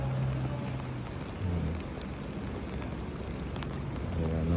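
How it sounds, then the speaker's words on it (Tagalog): Heavy rain pours down steadily during flooding from an overflowing river onto a road, a dense loud hiss with low rumbling beneath, continuous and unbroken throughout. "Malakas ang ulan"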